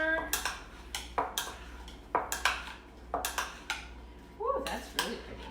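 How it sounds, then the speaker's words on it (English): A spoon stirring food in a bowl, a quick run of sharp clinks and scrapes against the sides, close and fairly loud, with a brief rustle near the end. "Give it a good stir."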